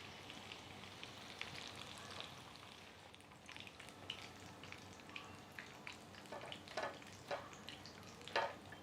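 Chicken pizza fingers fry in hot oil over a high flame, a faint, steady crackle of bubbling with scattered sharper pops and spits.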